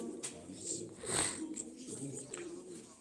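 Purebred Sivas pigeons coo softly in a loft, low and fairly faint, mixed with murmuring background voices.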